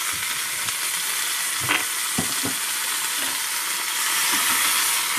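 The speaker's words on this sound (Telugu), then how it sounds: "ఎండుమిర్చి ఎండుమిర్చి వేసుకున్నాండి బండ దగ్గర" Dried red chillies fry in a pan for coconut chutney, giving a continuous bright sizzle with a few soft scraping stirs and clinks, close and steady without talk.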